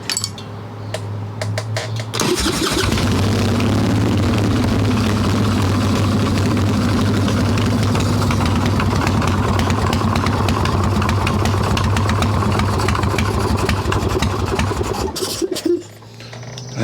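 A Harley-Davidson Evo Softail engine fitted with an S&S carburetor idles loudly and steadily for about thirteen seconds, a deep rumble starting abruptly after a quiet opening and cutting off near the end.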